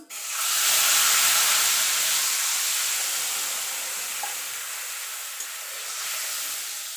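Water poured into a pan of frying spices, turmeric and Kashmiri chili powder among them, for mustard hilsa curry. It sets off a loud, sudden hiss and sizzle that settles into a steady bubbling steam for several seconds.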